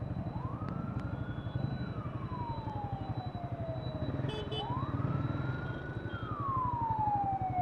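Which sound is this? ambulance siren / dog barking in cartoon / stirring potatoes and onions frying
ambulance siren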